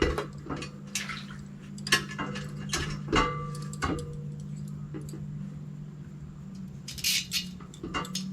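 Metal tools clink and tick as a wrench and a 4 mm Allen key snug bolts on an aluminium sliding dock ladder, producing sharp intermittent clicks and taps over a low steady hum, close and fairly quiet.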